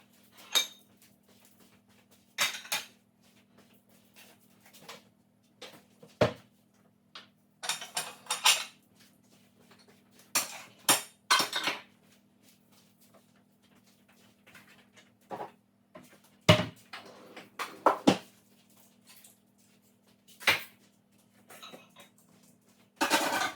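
Dishes and cutlery clink and clatter as a messy kitchen island is cleared, scattered bursts of plates, pots and utensils being picked up and set down, close and intermittent over a quiet background hum, with no talking.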